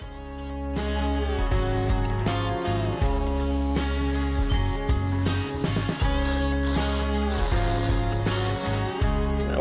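A ratchet works a nut on a QA1 rear double-adjustable billet shock absorber, with steady, loud, continuous clicking and mechanical whirring up close, no talk.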